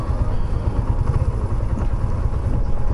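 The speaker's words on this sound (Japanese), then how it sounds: "エンジンも静かになりましたね。 すごい静かになった。" A Suzuki GN125H motorcycle engine, freshly fitted with a new spark plug, idles close by with a steady low, even putter and faint mechanical clatter, running alone without talk.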